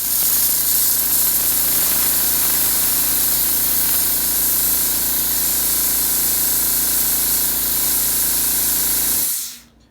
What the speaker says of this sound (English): you can spray the line out with the suction tube out of the container